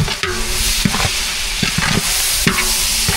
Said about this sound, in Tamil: தக்காளி சேர்த்தாச்சு நல்லா வதக்கி விட்டுக்கலாம்